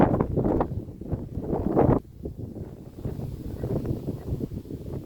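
Outdoor wind buffets the microphone in a steady, full rumble during an afternoon walk, louder for the first two seconds, then easing slightly but continuing throughout.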